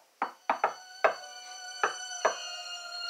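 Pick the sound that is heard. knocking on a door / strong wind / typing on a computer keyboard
knocking on a door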